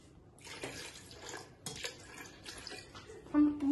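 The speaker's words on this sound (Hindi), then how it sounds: "और हम थोड़ा और फिर पानी डालेंगे" Water is poured and splashed while mixing a salted lassi with chaat masala and cumin powder, giving uneven splashing and clinks of a vessel, with a short tonal sound near the end.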